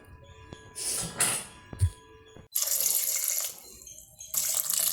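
Water splashes and pours into a pot of pumpkin sambar in two bursts, with a few clinks of a vessel in between, close by.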